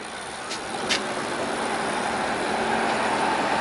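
A motor vehicle towing a fat-bike so its brakes bed in, heard as steady engine and tyre noise rising slightly, with a couple of brief high squeals near the start.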